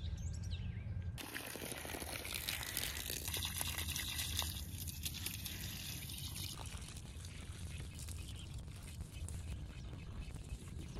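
Water pouring steadily into a freshly dug planting hole in a garden bed, a continuous loud splashing gush that starts abruptly after a second and runs throughout, with faint trickling and ground noise.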